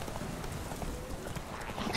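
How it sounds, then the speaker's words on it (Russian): A horse gallops in the video game The Witcher 3, a steady stream of rapid hoofbeats under a continuous bed of game ambience, growing slightly louder toward the end. "Не бойся, лошадь. Мы скачем хорошо, нас не найдут, не догонят."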